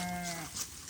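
Livestock bleating near a farm stay, with goats and sheep gathered close by; one drawn-out harmonic call in the first half-second, then a noisy, rustling outdoor background.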